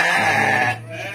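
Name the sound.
sheep bleating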